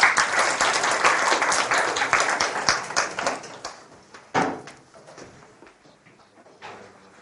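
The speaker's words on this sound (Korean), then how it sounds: "박수 한번 쳐주시고." A classroom of students breaks into applause for a team called to the front, dense clapping at first that thins into scattered claps and shuffling, with faint knocks near the end.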